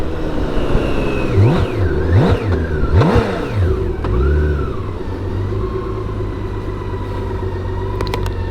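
A loud BMW K1600 GT motorcycle engine revs up and down several times in quick bursts, then settles into a steady rumbling idle nearby.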